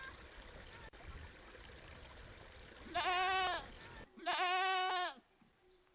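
Goats and sheep at a livestock farm bleat in two long, loud calls, the second stronger, over a steady trickle of running water and faint background noise.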